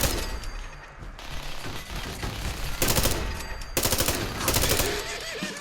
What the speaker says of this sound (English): Oh, just machine gun.